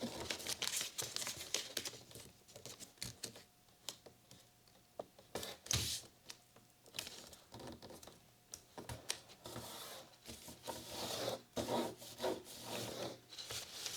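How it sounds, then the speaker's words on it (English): Paper being folded and creased into a 16x16 origami grid, with repeated close, crisp rubbing, crinkling and sharp creasing strokes continuing alone without talk. "So fold this edge to the top."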